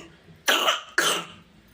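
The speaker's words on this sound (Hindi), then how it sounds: "तुम्हारी खांसी नहीं सही हो रही है" A small baby with a lingering cough and cold gives two sharp, close coughs about half a second apart, each trailing off briefly, in an otherwise quiet room.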